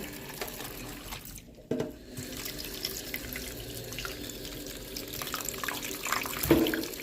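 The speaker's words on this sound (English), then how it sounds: "I will now go and wash it and then I will cut it further." Tap water runs steadily into a sink while cassava is rinsed between bowls, a continuous close splashing flow with a brief clatter partway through and no talk.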